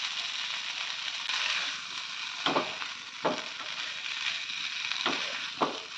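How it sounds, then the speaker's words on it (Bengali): Chickpeas sautéing in a pan for chana masala, a steady broadband sizzle with several sharp scraping strokes of a spatula scattered through it, close and fairly quiet, with no talking. "আমার ছোলাগুলো ভালোভাবে কষা হয়ে গেছে।"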